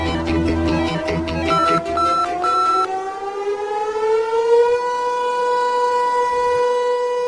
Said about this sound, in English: This siren tests the emergency alert system in the town surrounding the Vermont Yankee nuclear power plant